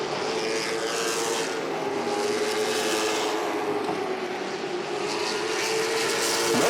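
Late model stock cars racing at Langley Speedway, a dense, continuous high-revving engine howl from several cars at once, loud and close, with the pitch shifting slightly as the pack passes and the roar swelling toward the end.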